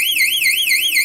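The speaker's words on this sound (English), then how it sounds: "and it does that siren" A kids' toy monster detector's high, warbling electronic siren wails continuously, its pitch sweeping up and down in quick regular cycles, loud and close with no other sound.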